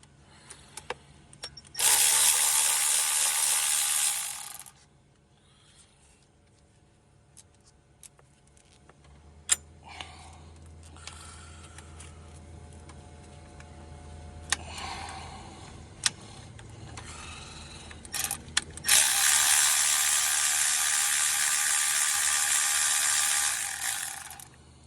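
A Milwaukee power ratchet spins screws out of the thermostat housing on a 2004 Nissan Sentra, in two loud buzzing bursts of a few seconds each with clicks and quiet handling between them.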